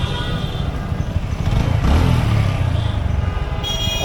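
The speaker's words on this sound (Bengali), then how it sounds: "এদিক দিয়ে অনেকগুলো বাইক যাইতেছে" Motorbikes passing through a narrow lane, a loud engine rumble swelling as one goes by close, over a rough, steady background.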